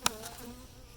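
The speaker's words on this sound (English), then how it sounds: "There's one just totally agitated bee." An agitated bee buzzes close by at a beehive while a super is being added, with a sharp loud burst at the start and then a steady low hum.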